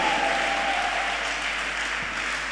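A church congregation applauds in praise, producing a steady wash of clapping that holds at an even level across the whole stretch, fairly loud with no clear speech on top.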